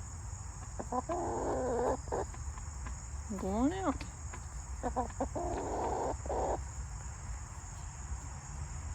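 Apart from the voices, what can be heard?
chicken clucking in its coop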